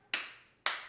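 Two sharp hand claps from children in a homeschool group, clapped together on a count about half a second apart, each with a brief ringing tail in a quiet room and no talk.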